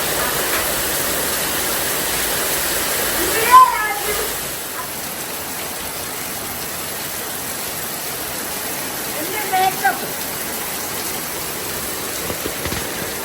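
Heavy rain with wind pours down in a steady, full hiss, with a couple of brief louder bumps and some speech in the background.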